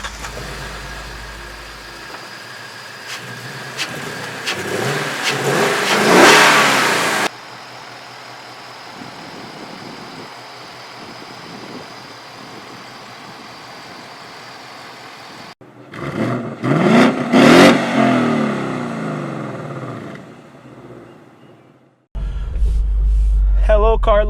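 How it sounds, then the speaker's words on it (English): A 2016 Ford Mustang GT with the performance pack, its engine swelling through a deep rev that cuts off, then idling low before two more loud revs rise and fall, with talk heard over parts of it. "Now let's listen to the engine."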